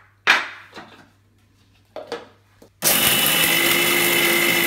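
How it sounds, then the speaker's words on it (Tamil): A small mixer grinder dry-grinds roasted gram into powder. A few clattering knocks of handling come first, then the motor starts abruptly and runs as a loud, steady, high whine to the end. "சின்ன மிக்சியில் போட்டு அரைச்சிக்கிறேன்"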